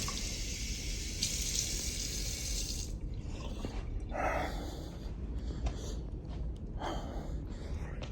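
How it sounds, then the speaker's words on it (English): Water pours steadily from a tap into a cup of coffee for a few seconds, then cuts off, leaving quiet room noise with a few soft breaths and small clinks. "put some water in"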